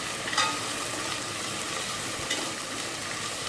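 Ginger garlic paste, freshly pounded, fries in hot oil in a pan while being stirred, giving a steady, moderately quiet hiss and crackle with a couple of faint scrapes of the spoon and no voices.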